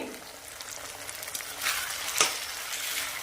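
Onion sizzles with ginger-garlic paste in a pan for a cabbage dish, a constant fry hiss broken by a couple of stirring scrapes.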